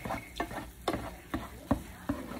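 A spoon scrapes and taps through butter melting into sausage grease in a pan for Southern biscuits and gravy, a steady series of about six distinct strokes over a soft frying sizzle.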